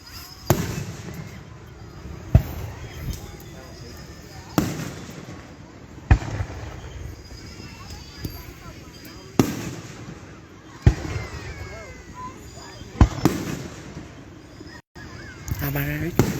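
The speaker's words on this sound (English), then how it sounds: "Fairview Park for the 4th of July fireworks" Fourth of July fireworks at Fairview Park burst in loud, booming reports roughly every two seconds, each blast trailing into crackle and rumble, with faint voices and crowd noise in between.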